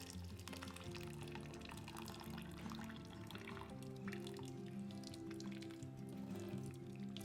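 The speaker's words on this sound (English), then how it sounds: "I'm going to reserve the whey and let this drain" Whey draining from freshly made homemade paneer curds, a soft, continuous trickle and drip of liquid heard faintly and steadily throughout.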